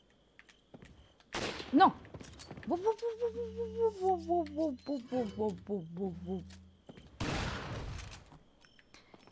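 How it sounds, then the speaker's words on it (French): Shotgun blasts in the video game Resident Evil 4: two loud, booming bursts several seconds apart, with a voice and a low steady hum in the gap between them. "ça c'est du fusil à pompe"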